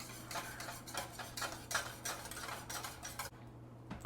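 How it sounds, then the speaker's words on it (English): Lemon juice being stirred into an egg mixture in a bowl, with quiet, repeated scraping and clinking of a utensil in a steady rhythm, fading near the end. "now we're going to add the 2 tablespoons of lemon juice to this mixture, stirring the whole time"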